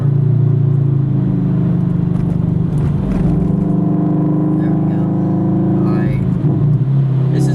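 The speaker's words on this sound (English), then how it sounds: "Third gear from 4 grand." A tuned, supercharged Subaru BRZ pulls hard in third gear, its engine droning loud and close with a steadily rising pitch and a constant rumble throughout.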